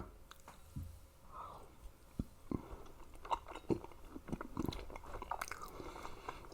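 Fresh salmon eaten with jaew dipping sauce, soft close chewing with intermittent wet clicks and small crunches, quiet and without talk.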